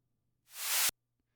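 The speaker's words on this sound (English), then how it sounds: "This one's a really quick white noise one." A very short white noise sweep effect for an electronic music drop, a bright hiss that swells quickly from silence and stops abruptly after under half a second.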